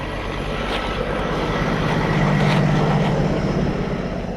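A Kenworth T600 truck with straight exhaust pipes rumbles steadily nearby, a loud, continuous, deep engine drone that swells slightly midway with no pauses.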